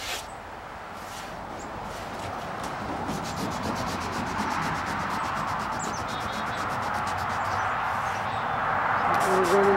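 Hand sanding the fenders of a 1953 Ford F-100 truck with 400 grit sandpaper, a steady close scraping rub that continues evenly throughout with no pauses.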